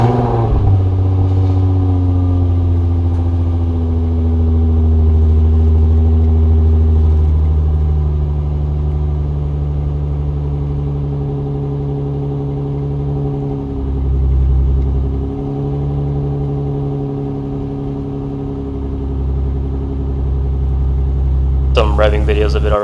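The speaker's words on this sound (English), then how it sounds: "I'll actually insert a cold start video in this so you can hear what it sounds like in a cold start" A Nissan G35 coupe with a full 3-inch exhaust idles through a cold start, a deep steady droning rumble with slight pitch shifts and swells, close and loud, ending with a brief noisy burst.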